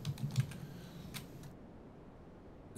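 Close computer keyboard typing of a chmod command on a Linux machine, a quick cluster of light clicks in the first second and a half, then near quiet.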